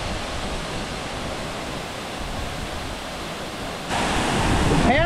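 The Milky Bar waterfall in the Sahyadri mountains roars as a continuous broad rush of falling water, heard close and loud, growing louder toward the end.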